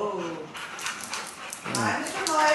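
Excited dogs yip, whimper and bark over a tennis ball outdoors at a state park, with short high-pitched bursts that are fairly close, mixed in with a person talking.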